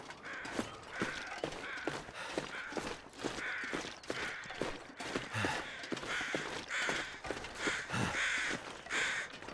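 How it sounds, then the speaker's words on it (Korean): A crow in a video game caws repeatedly, harsh calls spaced irregularly over nearly ten seconds, fairly close and clear against a quiet background. "왜 여기서 까마귀가 울고 있지?"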